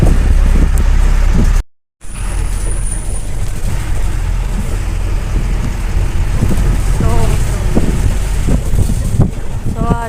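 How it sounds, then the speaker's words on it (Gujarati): Cool morning wind buffets the microphone of someone riding along a road near Movaiya, a steady, loud rushing roar with a brief dropout, while a person talks. "સવારમાં મસ્ત મજાનો ઠંડો પવન આવી રહ્યો છે."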